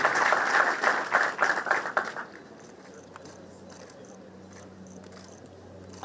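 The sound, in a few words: applause for award recipient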